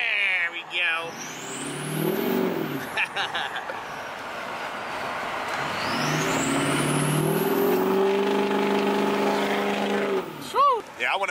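A 2006 Ford F250 pickup with a 6.0 Power Stroke diesel, built to about 800 hp, accelerating hard from a stop in first gear. The engine roars and rises in pitch twice, heard from inside the cab at moderate loudness.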